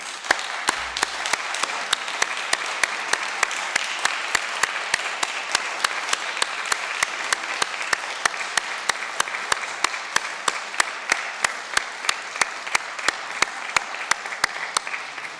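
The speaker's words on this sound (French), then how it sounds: "je vous propose de l'applaudir." A plenary session of the French Senate breaks into sustained applause, a dense, steady clatter of many hands clapping in a large chamber that keeps an even rhythm for the whole stretch, with no one speaking over it.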